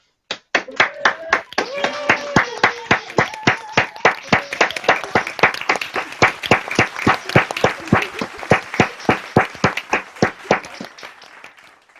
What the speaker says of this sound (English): I now warmly welcome you to unmute yourselves and clap and cheer for each other